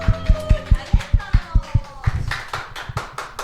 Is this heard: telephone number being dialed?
no